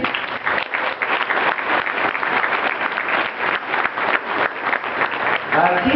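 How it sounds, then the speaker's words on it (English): Graduation audience giving a round of applause for teachers, a loud, dense, sustained roar of clapping from a large crowd, with faint voices mixed in near the end. "Can we get a round of applause for that?"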